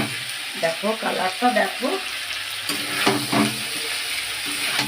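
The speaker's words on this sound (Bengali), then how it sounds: "এবার আমি দিয়ে দিচ্ছি টমেটো কুচিগুলো, টমেটো কুচি দিয়ে এবার নাড়বো।" Chopped tomatoes sizzle and crackle as they are stirred and fried in a pan for a home-cooked fig-and-chicken curry, with a steady bright hiss and someone talking over it.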